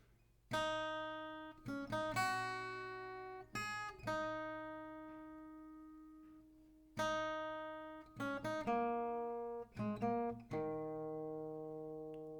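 Single acoustic guitar notes are plucked one at a time in a slow melody, each ringing and fading before the next, some in quick pairs.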